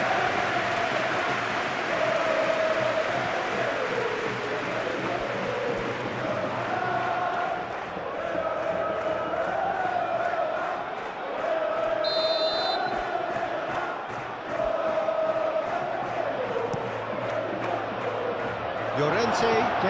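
A stadium crowd at an Atletico Madrid vs Barcelona Copa del Rey semi-final football match keeps up a steady, dense roar of cheering and chanting, with a commentator talking over it throughout.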